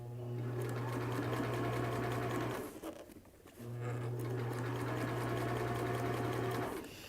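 A sewing machine hums and rattles while stitching a straight seam on a cap, running in two steady bursts with a brief stop in the middle, close and clear.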